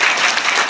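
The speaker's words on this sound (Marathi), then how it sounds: "एकदा जोरदार त्यांच्याकरता टाळी वाजवा." An audience at a kirtan breaks into a brief burst of dense, steady clapping, a short wash of applause from many hands.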